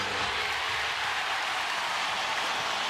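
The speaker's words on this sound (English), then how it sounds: "The crowd getting energized, Bill." Basketball arena crowd at a 2005 NBA Western Conference playoff game between the Spurs and Suns in Phoenix, roaring and cheering steadily and loudly throughout, a dense continuous wash of voices with no distinct speech.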